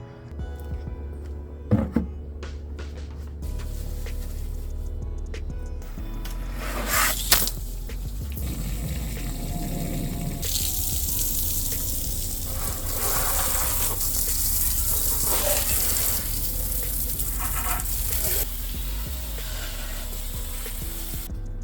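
Water sprays and gushes over a motorcycle being washed with car soap, a steady hissing wash with some clinks and handling noises, close by and continuous with no talk.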